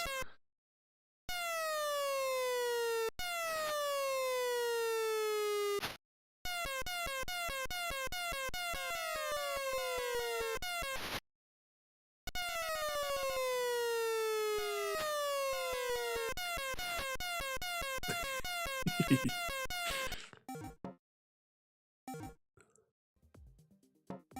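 A repeating electronic ambulance siren from an Atari Vault video game wails in rising and falling sweeps, interrupted by short gaps, with game beeps toward the end.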